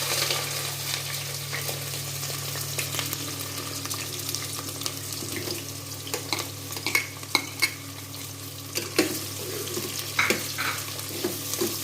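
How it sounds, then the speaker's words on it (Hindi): Onions frying in a pan for mutton curry give a steady sizzling hiss, with occasional scrapes and clicks of stirring rising through the second half. "सबसे पहले हम इसके अंदर प्याज शामिल करेंगे"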